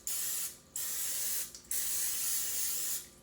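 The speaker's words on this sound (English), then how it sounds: "I'm going to go ahead and spray it" Non-stick cooking spray hisses onto a sheet of parchment paper cut to line a baking pan, in three sustained bursts separated by short pauses, close and steady with no talking.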